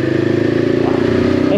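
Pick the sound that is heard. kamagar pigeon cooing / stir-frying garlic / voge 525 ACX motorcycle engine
voge 525 ACX motorcycle engine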